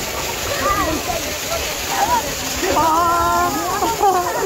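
People splash and slosh in cold water at a village gathering in Multan, a steady busy wash of water noise with voices talking and calling over it.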